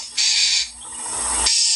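A female mockingbird, recorded outdoors, gives a loud, bright, high-pitched call in two bursts close to the microphone, the first short and the second longer.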